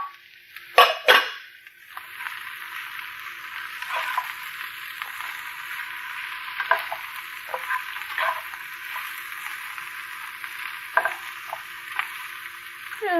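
Carrots and mushrooms stir-frying in a pan, a steady bright sizzle with a few louder clatters of a utensil near the start, continuous and close with no talking.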